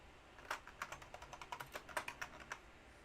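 Quick, light keystrokes patter on a computer keyboard in an irregular burst of about a dozen clicks, close and fairly quiet, with no talking.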